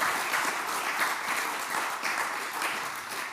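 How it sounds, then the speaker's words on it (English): A conference audience applauds during a tech keynote on the GraphQL Foundation, giving steady, fairly distant clapping from a large crowd that lasts a few seconds. "I also had pause for applause there too"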